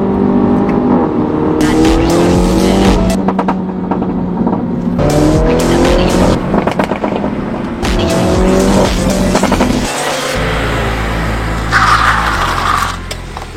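A Mini JCW hatchback is driven hard, with loud engine revving, gear changes and squealing tyres close up, plus occasional voices mixed in.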